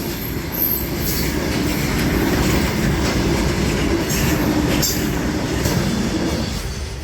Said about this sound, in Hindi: ये देखो जी भारतीय रेल मालगाड़ी